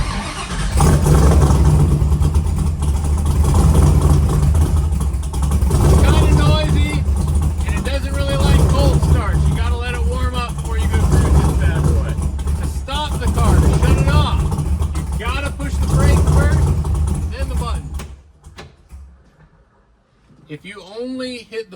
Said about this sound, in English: Now the vehicle will start.